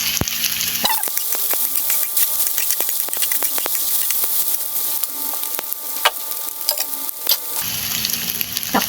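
Meat sizzles and crackles in a hot pan for pancit bato, with a steady loud frying hiss broken by scraping stir strokes and sharp pops; the hiss swells at the start and end.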